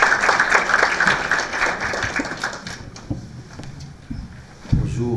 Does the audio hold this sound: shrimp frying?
no